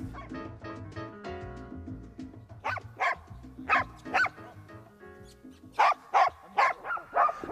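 Russo-European Laika hunting dogs bark at a bear, with bursts of loud, excited barking and yelps, some close and some overlapping, over a rumbling low background.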